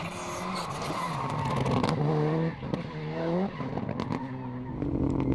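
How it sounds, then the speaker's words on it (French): A Skoda Fabia rally car on an asphalt stage of the French tarmac rally championship in Limousin, its engine revving hard and shifting through gears, close and loud, with a brief tire squeal. "tenté pour revenir sur Frédéric Reynal, mais la Skoda Fabia numéro 4 va échouer à moins d'une seconde de la victoire dans le trophée Michelin"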